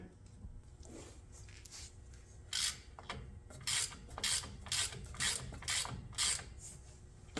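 A ratchet tightens bolts on a 2000 Toyota Tundra during a differential install, repeated bursts of quick clicking and rasping come in short even strokes, close and fairly quiet, with no talk.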